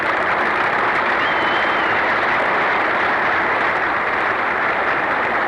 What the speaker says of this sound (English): The audience has broken into spontaneous applause as the sleek white Delta Wing aircraft comes to rest.